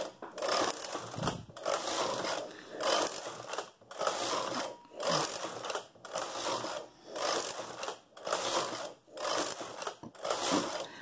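A knitting machine runs tubular rows onto contrasting scrap yarn for a machine-knitted sock, the carriage sweeping back and forth in about nine regular loud passes with brief pauses between them.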